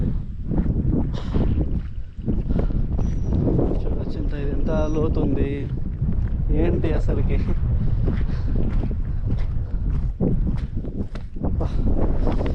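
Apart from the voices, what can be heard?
strong wind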